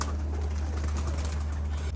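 Pigeons in a loft cooing softly and steadily over a constant low hum, with occasional faint flutter; no talk.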